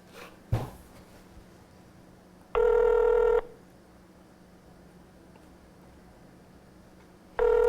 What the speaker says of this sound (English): Let me dial the number now.